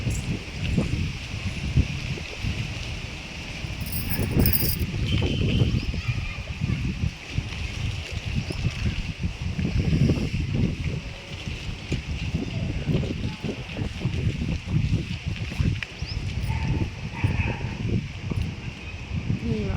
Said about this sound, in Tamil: பேய் காற்று இதுதான் பேய் காற்று போல்